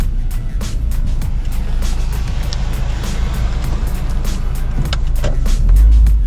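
A Kia Spectra5 car on the road, heard from inside as a steady loud rumble of engine and road noise with faint ticking and rattles, swelling slightly toward the end.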